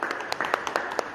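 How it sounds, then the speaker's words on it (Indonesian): Brief, light applause from a small group, a quick patter of hand claps that lasts only a moment. "tepuk lagi"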